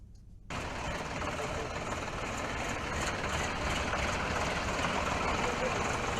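Tractors handed out to farmers at a government scheme event idle steadily as a loud, continuous low engine rumble. The rumble starts abruptly after a brief quiet moment and holds constant throughout, with no talk over it.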